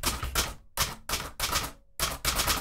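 Typing on a Hermes Baby / Empire Aristocrat portable typewriter: close, crisp bursts of rapid key strikes in four clusters, separated by short silent gaps, with no talk.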